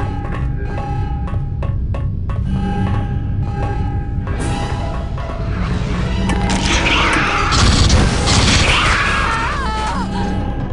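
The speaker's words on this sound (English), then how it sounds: "I think I instantly destroyed my sentry by shooting it" A sentry gun in AVP2: Primal Hunt being shot and destroyed: sharp repeated metallic hits give way to a loud crashing burst of debris and whining electronic warbles, dense and close.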